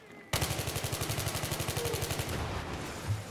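A rapid, even burst of automatic gunfire in Battlefield 3 rattles loud and close for about two seconds, then trails into lingering rumble and a few scattered shots.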